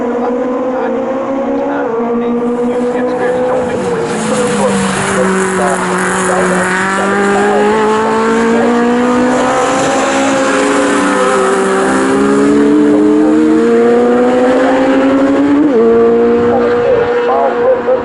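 Legends race cars at Snetterton howl along the Bentley Straight in a national championship heat, several engines rising and falling in pitch as they jostle close together, loud and continuous under race commentary.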